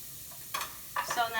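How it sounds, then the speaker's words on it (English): Onions sizzle and crackle in a hot dry frying pan with no oil, with two bursts of stirring scrapes breaking through the quiet frying. "So now the onions are sizzling, and don't forget that they are actually on a dry frying pan."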